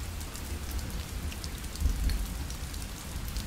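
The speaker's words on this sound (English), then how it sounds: "the rain's coming down hard" Heavy rain pours steadily onto deserted city streets, a dense, continuous hiss of drops with a low rumbling undertone that swells briefly midway, close and enveloping with no voices.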